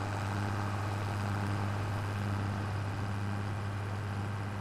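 Tractor engine heard from inside the cab in Farming Simulator 25, a loud, constant low drone with a strong steady hum and broad mechanical noise, unchanging throughout and without speech.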